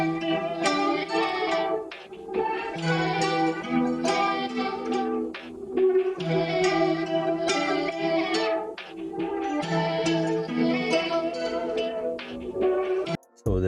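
Equalized, processed guitar sample pitched down two semitones plays a looping melodic phrase with warm, low-mid tones and a few short pauses, clear and alone without any voices.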